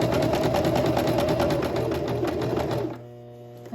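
A sewing machine stitches a shirt seam at a fast, even pace, close and loud, then stops. A low residual hum lingers for the last second.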